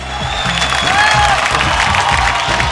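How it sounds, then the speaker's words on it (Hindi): Audience at a Bhojpuri singing competition stage show gives a strong round of applause, dense steady clapping mixed with scattered cheers and shouts throughout. "एगो जोरदार ताली"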